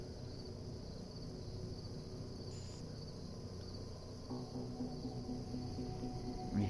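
A steady, high insect drone, cricket- or cicada-like, holds throughout in a Borderlands: The Pre-Sequel game session, with a low rumble building underneath toward the end.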